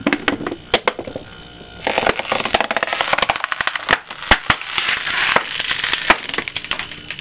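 A compressor vacuum pulls on a plastic pop bottle, giving a dense run of loud crackling pops and snaps as the bottle crushes and implodes, with no talk over it.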